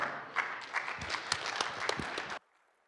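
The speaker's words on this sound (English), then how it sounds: "Please give her a round of applause." A room applauds with steady clapping for about two seconds, then the clapping stops abruptly into near silence.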